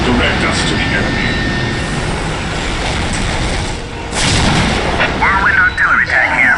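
A Whirlwind artillery tank fires in the Dawn of War strategy game: heavy booming artillery over rumbling battle noise, with a louder burst of blasts near the end and game unit voices speaking.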